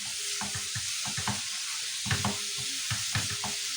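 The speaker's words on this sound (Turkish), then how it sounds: "Karıştırıp kavuruyorum." Beetroot sautéing in a pan with a steady sizzle, stirred in repeated scraping strokes that come in a loose rhythm, close and clear with no voices.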